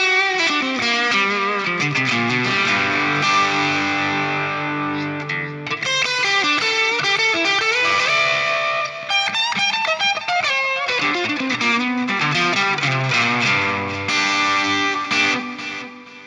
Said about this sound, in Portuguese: esse é o som do Tanque G com distorção